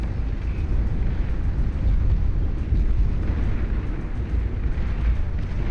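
A heavy bomb from a Core torpedo bomber explodes in the Beyond All Reason strategy game, a loud, sustained low rumble of blast and roar with aircraft engine drone, continuous throughout with no talk.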